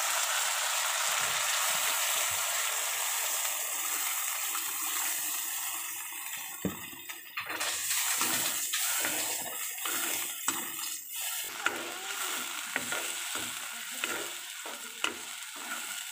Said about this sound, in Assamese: ইয়াতে মই পানী দি দিছোঁ।